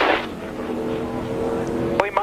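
NASCAR Busch Series race car engine, a loud continuous roar heard close up with a voice over it.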